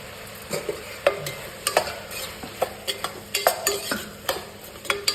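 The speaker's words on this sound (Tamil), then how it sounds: "இப்போ எண்ணெய் ஊற்றி கருவேப்பூ போட்டு கத்திரிக்காய் தக்காளி எல்லாம் போட்டு இப்போ நல்லா கலர் விட்டுட்டுருக்குறேன்" Eggplant and tomato fry in oil with curry leaves while a spoon stirs the pan, steady close sizzling broken by repeated sharp scraping clacks at an uneven pace, with no speech.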